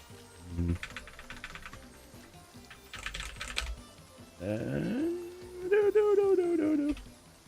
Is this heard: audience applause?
no